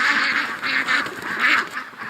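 Several agitated ducks quack repeatedly in a yard, a steady, overlapping run of harsh calls close by with no talk.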